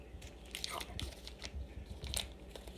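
Hard Australian Allen's candy is crunched and chewed close to the mouth, with repeated bites and grinding over about three seconds at low volume, with no talking.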